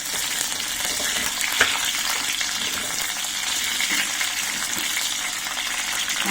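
Capsicum frying in a few spoons of hot oil in a pan for gobi chilli makes a steady, fairly loud, continuous sizzle with a brief stir sound early on.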